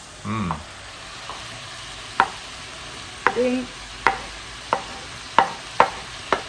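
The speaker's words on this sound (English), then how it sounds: "Oh, frying." Pork and onions frying in a pan, a quiet background sizzle broken by a series of sharp scraping stirs and spatula taps at irregular intervals, with a brief clatter near the start.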